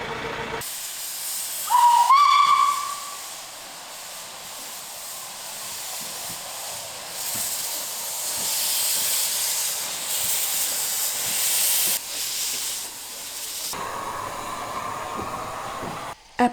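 Inside a workshop, a steam locomotive of the Ardèche tourist railway gives a loud, continuous broadband hiss of escaping steam, with a short whistle-like tone near the start and the hiss swelling and easing throughout.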